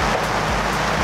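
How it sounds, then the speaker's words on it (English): Steady rain falls at an outdoor farm market, a dense, even hiss of drops on surfaces that runs unbroken and fairly loud throughout, with no talk. "now it started raining"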